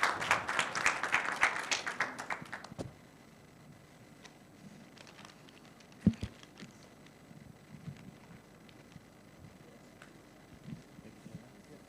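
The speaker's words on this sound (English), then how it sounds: "please join me in a warm round of applause to thank our panelists today" Brief audience applause for panelists at an Ethereum finance conference, a few seconds of clapping that quickly dies away, leaving quiet room tone with a couple of faint knocks.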